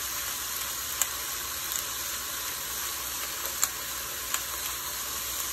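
Meat browns in a hot pan with a steady, bright sizzle, continuous and close, broken by a few soft pops and crackles.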